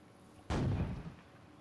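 A single booming cannon shot in the fishing game Fishing Planet during its 4th of July event, heard alone after a quiet moment and fading into a short rumbling tail.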